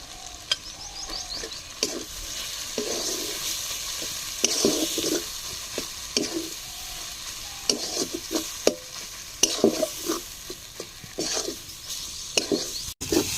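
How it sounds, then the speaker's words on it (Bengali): Soybean paste frying in hot oil in a pan with salt, giving a steady sizzle broken by repeated scraping stir strokes and occasional sharp clinks of the spoon against the pan, close and moderately loud with no talking. "পেস্ট করে রাখা সয়াবিনগুলো দিয়ে দেব।"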